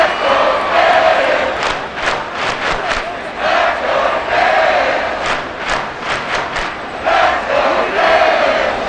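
A stadium crowd in Madden NFL 24, a Tennessee Titans versus Miami Dolphins game, roars continuously and loudly with rhythmic chanting swells throughout.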